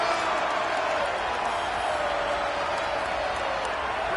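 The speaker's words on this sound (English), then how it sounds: "This dog crowd is off the leash, and they are coming after them, bringing noise on 3rd down." In the NCAA 26 football video game, a stadium crowd roars on third down, a steady, wide wash of noise that holds at an even level throughout.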